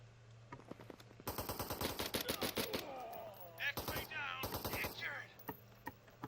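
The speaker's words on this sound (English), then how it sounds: "Oh, you're getting shot at." Rapid bursts of gunfire in the tactical video game Door Kickers 2, a string of sharp repeated shots followed by more scattered cracks, with a voice talking in between.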